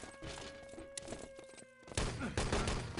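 A grenade detonating inside a room in Wolfenstein: Enemy Territory, a sudden loud blast partway through followed by a rough rumbling tail, with dull thuds and game noise around it.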